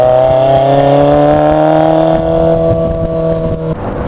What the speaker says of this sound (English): the Sport 160 is known for being rather lumpy at idle